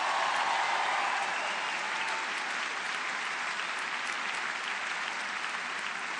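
A stand-up comedy audience breaks into steady, dense applause that holds evenly for several seconds without speech, a continuous wash of many hands clapping.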